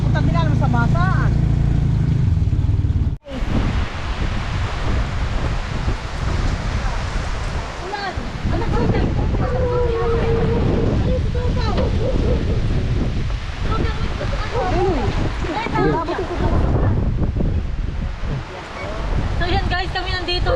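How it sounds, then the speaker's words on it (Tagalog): Heavy rain pours down in a dense, roaring wash outdoors during a vegetable harvest, mixed with wind buffeting and a brief dropout early, while people talk over it. "Sobrang lakas ng ulan."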